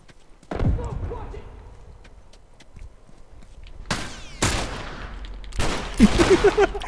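Gunfire in the video game The Last of Us in a coal mine map, with several sharp loud shot bursts late in the clip, over men chatting and laughing during online play.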